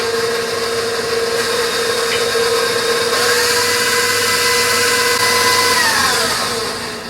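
An electric mixer whips heavy cream with added gelatin, a loud, steady whirring drone that holds for several seconds and shifts pitch slightly before trailing off at the end.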